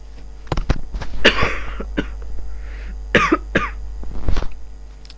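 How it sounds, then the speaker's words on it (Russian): Several harsh, raspy coughs in bursts from one nearby person, with short pauses between them and a low steady hum underneath. "Ненавижу кашель."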